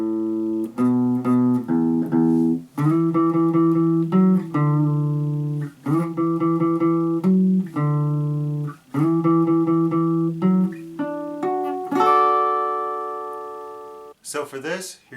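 Final section of a guitar riff played back, built from repeated strums on open strings, with steady rhythmic chord hits in short bursts followed by a longer ringing strum, loud and close with no talking.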